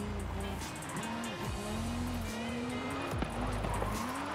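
Nissan Silvia S15 drifting in Forza Horizon 5, its engine note rising and falling in steady sweeps with a continuous low rumble and faint tire hiss, driven with handbrake and throttle, loud and close throughout.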